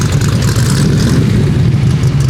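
A red Lamborghini Huracan at a California car meet sends out a loud, close, deep engine roar that holds a steady rumbling drone, with no clear rise and fall of revs.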